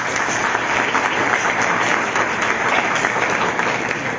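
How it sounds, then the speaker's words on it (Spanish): Loud, sustained audience applause for an honors graduate at a university law event, a thick, even roar of many hands clapping for about four seconds. "Un aplauso para"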